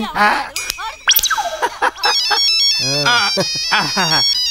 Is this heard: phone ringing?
yes